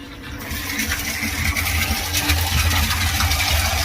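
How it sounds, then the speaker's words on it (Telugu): An electric water pump motor runs steadily while filling an overhead tank in a two-tank and sump setup, a constant close mechanical hum with rushing water noise. "ఇప్పుడు ఈ ట్యాంక్లో వాటర్ తక్కువగా ఉండడం వల్ల మోటార్ అనేది ఆన్ అయింది, వాటర్ వస్తున్నది మీరు గమనించవచ్చు."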